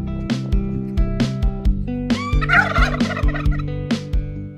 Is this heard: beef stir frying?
no